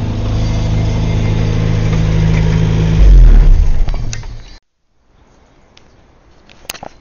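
A Series II Land Rover engine runs rough and loud just after a cold start on a damp day, a steady low drone that rises briefly before cutting out abruptly, leaving faint background noise and a few small knocks.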